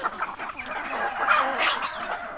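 Chickens kept in a garden cluck and cackle continuously at close range, with several birds overlapping in busy, uneven calls.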